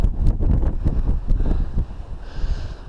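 North wind blowing across open ground near coastal lagoons on a hike or ride, a steady loud rumble buffeting the microphone throughout.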